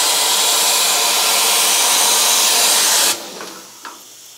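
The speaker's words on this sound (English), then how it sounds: "sprays forward and, you know, in four directions. So 360 degrees, basically, just a fine mist." A rust proofing spray wand blows a fine mist in a loud, steady broadband hiss for about three seconds, then cuts off abruptly, leaving a faint trailing sputter and a small click.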